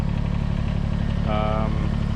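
A Kubota BX tractor engine runs with its snow blower attached, a steady, close low-pitched drone with a brief higher whine rising partway through.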